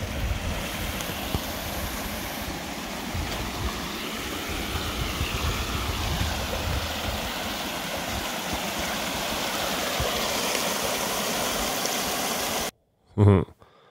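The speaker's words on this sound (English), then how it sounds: "You can hear that water flowing." Water rushes steadily and continuously from a nearby stream on a Nevada backcountry route, a broad constant wash of sound that cuts off abruptly near the end, followed by a brief bump of noise.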